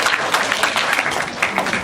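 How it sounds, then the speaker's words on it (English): Brief audience applause at a general knowledge quiz event, a burst of moderately loud, dense clapping from a crowd lasting under two seconds. "Let's give a big round of applause to the whole team who stood behind and made this event happen."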